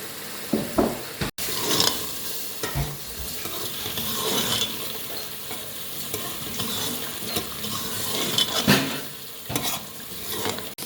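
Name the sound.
masala boti kabab cooking with tomatoes in pan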